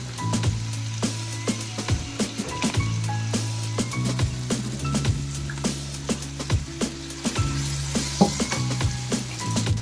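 Veg chowmein stir-frying in a pan as chilies, sweet corn and red chili sauce go in, a steady sizzle broken by frequent scraping and clicking of a spatula, close and continuous with no talk.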